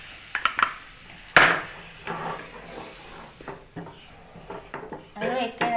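A spoon scrapes and clinks against a pan while two spoons of flour are stirred over a low gas flame for a milky pasta sauce. Irregular knocks and soft sizzling follow, with a voice speaking briefly near the end.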